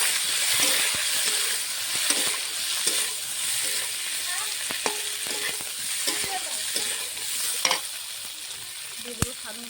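Boiled potatoes hit a red-hot oil tempering in a pan, setting off a steady close sizzle and crackle with occasional stirring clatter, no voices over it.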